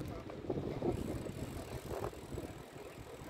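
A bicycle on an evening ride gives a low rumble of tires and rattling parts under buffeting wind noise on the microphone, steady and moderately quiet.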